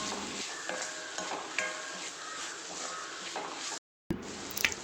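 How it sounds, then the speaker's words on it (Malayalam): Capsicum sautéing in a pan for prawn biryani, close sizzle with regular stirring scrapes, briefly cut to silence near the end before resuming. "ക്യാപ്സിക്കം കൂടി ഇട്ട് കൊടുക്കാം. എന്നിട്ട് നന്നായിട്ടൊന്ന് വഴറ്റിയെടുക്കാം."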